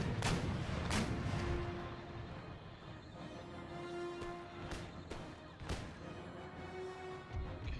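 Musket volleys and artillery booms from a battle in the video game Empire: Total War, sharp cracks recurring at irregular intervals over a dense, rumbling battle din, fairly faint and with no talking.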